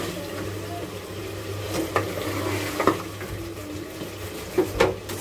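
Meat pieces sizzling and being stirred in a pan, a low steady fry with occasional sharp scrapes and clinks of the spoon against the pan, close by.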